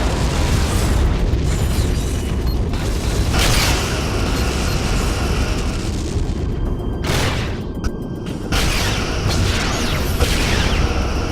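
A Romulan target ship blows up in the space game Star Trek: Legacy, loud booming blasts layered over a constant roaring rumble, with sharp bursts recurring through the stretch.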